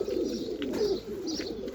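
Pigeons coo in a low, rolling murmur nearby, a steady soft burble running through the brief moment with slight swells.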